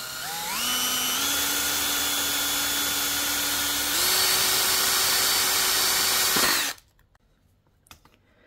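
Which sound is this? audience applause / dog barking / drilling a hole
drilling a hole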